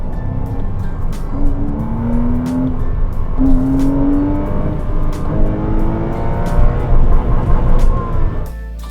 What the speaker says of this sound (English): The flat 6 motor lacks ultimate grunt but is exceptional when it comes to induction noise.